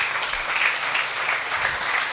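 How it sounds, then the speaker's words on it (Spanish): A church congregation gives a short burst of applause during a Spanish-language service, dense steady clapping from many people, moderately loud and continuous throughout. "Denle el aplauso al Señor."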